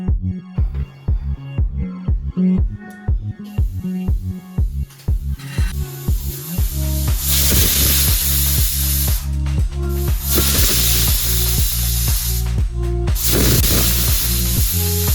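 A pressure cooker boiling banana flower with a little water chuffs in rapid rhythmic pulses of steam, then bursts into a loud, continuous hiss of escaping steam that holds steady to the end.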